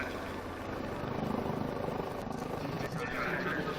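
Helicopter flying at an aerobatic display at a helicopter expo in Tianjin, a steady broadband rotor and engine roar held throughout at moderate distance, with a commentator talking over it.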